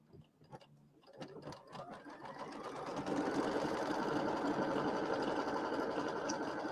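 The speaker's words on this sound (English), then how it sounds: "we're going to sew the batting down" A sewing machine stitches batting down onto a quilt block, starting with a few halting clicks and stitches before settling into a steady, fast mechanical whir that stays loud and continuous.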